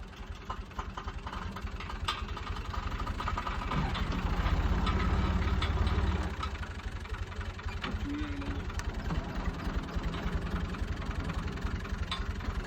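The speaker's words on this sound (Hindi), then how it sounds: "ट्रैक्टर इधर कर।" A tractor engine idles steadily in a sugarcane field with a low chugging rumble that swells slightly midway, with faint voices in the background.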